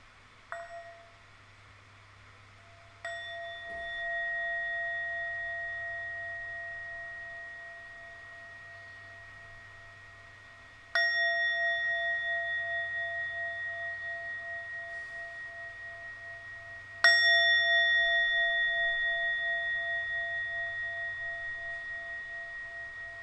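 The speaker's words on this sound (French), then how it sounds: "Je vais faire sonner la cloche." A meditation bell is struck four times, each strike a clear, ringing metallic tone with a long, slowly fading sustain, heard alone in a quiet room over a faint low hum.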